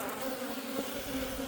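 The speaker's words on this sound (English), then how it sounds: "For some reason the bees like to go after my wrist" Honey bees hum in a dense, steady drone around a hive during syrup and pollen substitute feeding, close and continuous with no talking.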